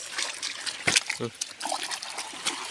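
Dug-up food, caked in sandy soil, being rinsed in several changes of water, with soft trickling and splashing under a man's chatter and a sharper splash near the middle.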